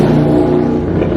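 Motorbikes revving outdoors on a summer day, a continuous loud engine drone holding steady with a slight rise and fall and no voices over it.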